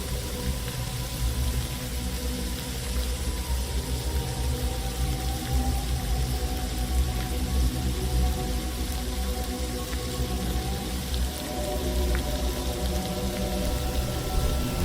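Steady heavy rain pours down outside, a dense continuous wash of falling water that stays loud and even throughout with no talking.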